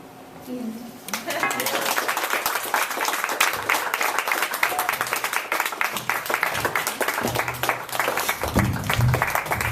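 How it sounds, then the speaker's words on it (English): Audience applause after a reading at an MFA mixer, dense crowd clapping that begins abruptly and continues steadily, with some voices and a brief spoken moment near the end. "You better clap."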